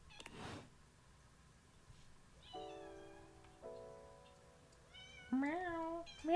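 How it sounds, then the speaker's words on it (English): A pet cat meows several times in the background of a quiet room, a few drawn-out, rising and falling calls spread across the moment, the last ones a bit louder and closer. "if you're curious if you can actually hear our funny little cat in the background"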